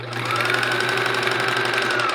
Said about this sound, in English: Just start sewing together.